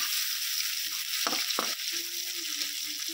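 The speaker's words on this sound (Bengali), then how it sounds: "এবারে দিয়ে দিচ্ছি কেটে রাখা পেঁয়াজ। পেঁয়াজটা খুব ভালো করে ভেজে নেব।" Chopped onions fry in hot oil, a dense, steady bright sizzle filling the whole stretch, with a couple of brief stirring clatters near the start and no talking.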